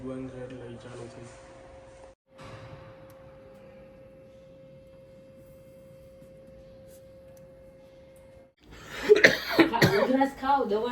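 A long, steady electronic hum fills most of the time, then a few loud, close coughs break out near the end.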